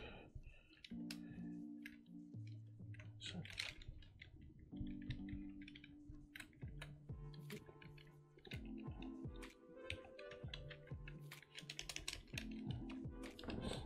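Computer keyboard typed on in a dark room, a near, uneven stream of quick key clacks and taps in short bursts, accompanied by a steady tonal background hum that shifts pitch.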